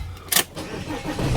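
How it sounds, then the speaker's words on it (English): A RAM ProMaster van's 3.0L engine, repaired for a sticking EGR valve, starts with a short burst of cranking and catches into a low, steady idle. "So as you can see, the engine is running"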